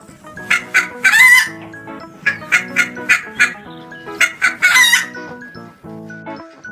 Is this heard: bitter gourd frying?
no